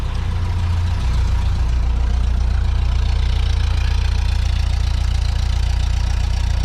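A bus engine idles steadily after repair work, a loud, even low rumble with a faint knocking texture that holds unchanged the whole time.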